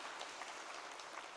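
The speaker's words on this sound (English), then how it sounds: "give yourself a big round of applause for that" Summit audience applauding at an energy conference, a dense steady wash of clapping sustained throughout, fairly loud and close with no talk over it.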